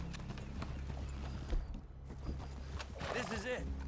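Horse hooves clip-clop steadily at a walking pace in Red Dead Redemption 2, under a constant ambient hum, with a voice speaking near the end.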